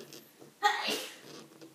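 A single sharp sneeze bursts out close by, with faint talk and quiet room noise around it.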